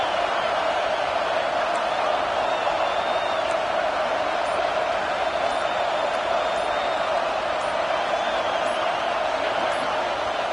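A stadium crowd at a Texas football game roars in a loud, sustained wash of noise that holds steady throughout, the crowd heard at a distance with no break.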